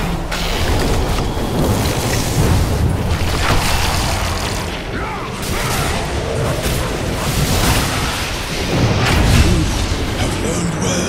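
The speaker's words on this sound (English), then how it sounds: "Radiant's middle tower is under attack." Dense, continuous game combat from Dota 2 during an attack on a tower, with repeated booming explosions and clashing mechanical impacts layered loudly throughout, punctuated by heavier bursts.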